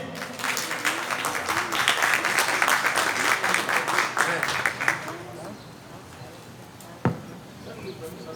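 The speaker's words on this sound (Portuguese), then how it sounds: "Vamos aplaudir?" An audience at a Brazilian trovadores congress session applauds a guest writer joining the panel: dense, lively clapping for about five seconds, then it breaks off into quieter room noise with voices and a single knock.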